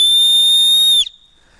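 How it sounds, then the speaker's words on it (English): A survival whistle from a bushcraft hunter's kit gives one loud, sustained shrill blast lasting about a second, then cuts off sharply, leaving near silence. "Another thing is a whistle."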